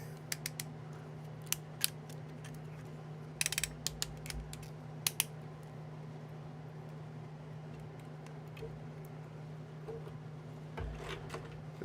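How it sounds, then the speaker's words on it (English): Ratchet joints on a handmade articulated build clicking in scattered bursts, sharp close ticks and short rattling runs over a low steady hum, with long quiet stretches between them. "Just to show some more of the ratchets at work here."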